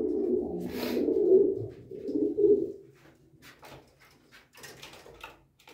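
Racing pigeons, mostly males, coo in a loft with low, rolling throaty calls in the first few seconds, followed by quieter rustling and faint wing or movement sounds nearby.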